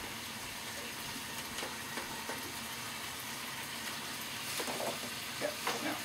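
Onions sizzling in a pan while being stirred, a steady hissing fry with soft scraping and clatter of utensils, growing slightly louder near the end, no talking.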